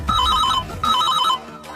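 A mobile phone rings for an incoming call, two short bursts of a bright electronic melody separated by a brief pause, loud and close with no speech.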